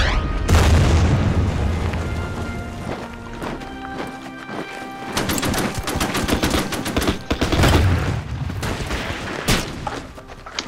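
Mortar and artillery bombardment in the wargame Order of Battle Pacific, loud booming blasts and rattling gunfire in dense repeated bursts, continuous and close, with no talking.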